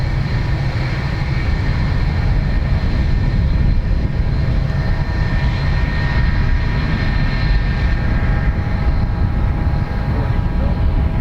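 Aircraft arriving at Dublin Airport, a steady broadband jet roar holding loud and close throughout with a continuous whine above the rumble, no pause in the engine noise.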